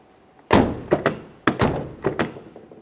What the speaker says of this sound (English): Let's go ahead and close and open the door.